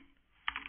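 Keys on a computer keyboard being typed as a name is entered: a short, close burst of rapid clicks after a brief quiet moment, with no talking.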